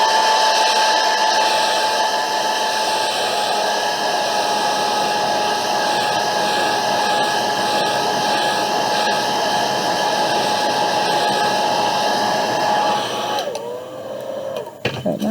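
Hair dryer blowing steadily to speed-dry a watercolor landscape painting, a loud, close, constant whine that runs for most of the clip and winds down in pitch at the end as it shuts off.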